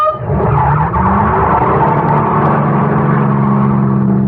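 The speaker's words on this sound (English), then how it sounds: "drowned by the roar of the engine" A car engine roars loudly in a 1977 radio mystery drama sound effect, with a sustained, revving whine and a rising pitch that holds steady and close throughout.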